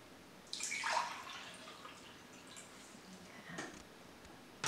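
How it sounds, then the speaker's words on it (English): Water poured from one cup into another at home: a brief splashing pour near the start, then light trickles and drips, close and quiet. "or you can pour them from one into another cup."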